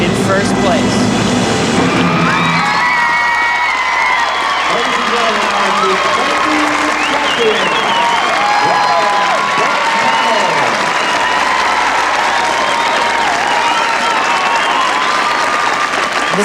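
Crowd at an outdoor 1995 men's figure skating event in Sun Valley bursts into loud, sustained applause and cheering after a skater's death drop, with a voice talking over the clapping throughout.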